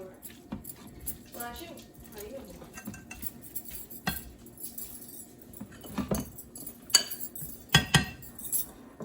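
Mushrooms stirred into a dish with a utensil, giving light scattered clinks and scrapes of metal against cookware, a few sharper knocks near the end, with faint voices in the background.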